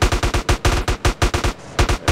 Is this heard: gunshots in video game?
yes